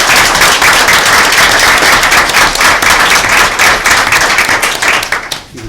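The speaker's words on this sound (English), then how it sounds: "Let's give her a round of applause." Dense, enthusiastic applause from a sizable crowd at a school board meeting, loud and continuous, tapering slightly at the very end.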